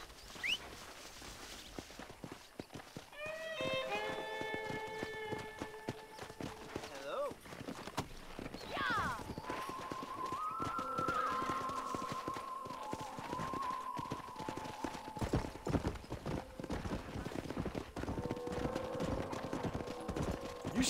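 Wild horses in the Western video game Red Dead Redemption 2, hooves clip-clopping steadily alongside drawn-out whinnies and neighs, with characters talking over the hoofbeats.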